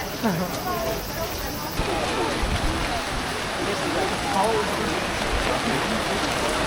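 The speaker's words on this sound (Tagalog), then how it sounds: "Ang lakas ng ulan." Steady heavy rain in Tokyo hisses and patters across the whole clip, a dense wash of noise with people talking over it.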